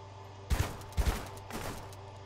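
Gunfire in the survival shooter Deadside: two quick bursts of shots close together, then a fainter third burst, set against a low, steady hum.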